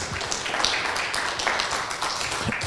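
A church congregation claps for the Lord during a Spanish-language service, with dense, steady applause of many hands, fairly loud and sustained, with no voices over it.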